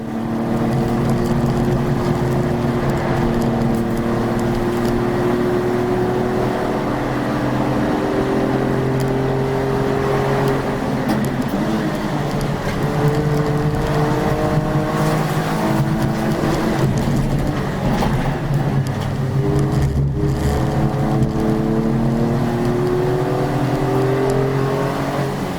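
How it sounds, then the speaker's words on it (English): A budget hatchback race car held at full throttle around a circuit, its engine a steady, loud, sustained drone with slowly shifting pitch as it stays flat through fast corners, heard alone from onboard. "It's flat through the Jim Clark S's, deep breath and then flat through Barcroft and brake hard for Sunny Inn."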